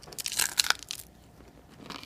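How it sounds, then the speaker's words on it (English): A bite into crispy home-cooked bacon gives a few sharp, close crunches, then the sound fades into quiet. "Nice crispy crunch."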